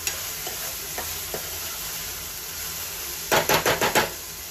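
Spices being stirred into onion and tomato frying in a pan for akkhamasur, a spiced lentil dish, with a steady sizzle throughout and a quick burst of four or five scraping stirs near the end.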